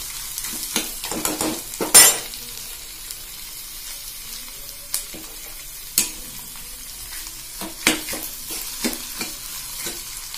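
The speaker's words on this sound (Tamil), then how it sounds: "நல்லா வதக்கி விட்டுக்கோங்க" Onions sizzle softly in a pan for a chutney while a utensil stirs and scrapes them, with regular sharper clinks and scrapes over a quiet, steady frying hiss.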